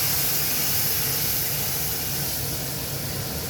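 Water poured into a hot pan of mutton masala gives off a steady broadband steam hiss that holds at an even level for several seconds, close and alone.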